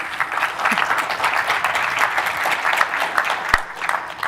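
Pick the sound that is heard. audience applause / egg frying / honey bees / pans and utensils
audience applause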